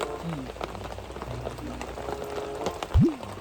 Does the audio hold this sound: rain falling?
yes